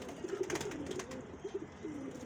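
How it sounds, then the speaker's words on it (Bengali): A cobra line pigeon coos close by, several soft, throaty rolling calls in quick succession with brief pauses between them. "এটা কোবরা লাইনের কবুতর"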